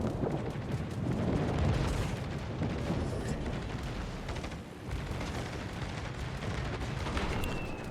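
A naval video game battle with a bombing run on the battleship Georgia: a rumbling wash of booming explosions and artillery-like thuds, dense and loud throughout, with no talk.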